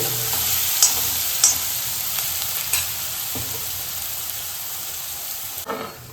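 Green chilies and garlic sautéing in a hot pan, a steady close sizzle and frying hiss with a few sharp stirring scrapes and spatters, no voices.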